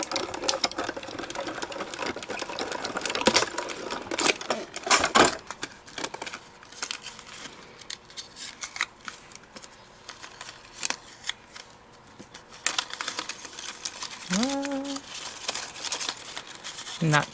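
Paper runs through a Diamond Press die-cutting machine with a steady mechanical whirring and rattling, close by, with short gaps and handling noises between passes.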